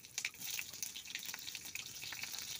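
Green chillies drop into hot oil with cumin and mustard seeds, giving a faint, steady crackle and sizzle with scattered sharp pops throughout.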